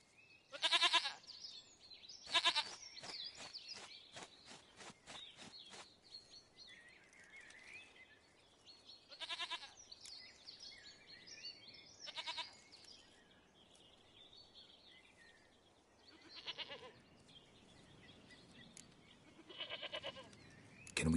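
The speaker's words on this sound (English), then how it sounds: "Goat of mine, dearest, sweetest goat." In The Witcher 3, a goat gives loud bleats in a quick cluster at the start, then further scattered bleats, with birdsong softly behind across the quiet rural scene.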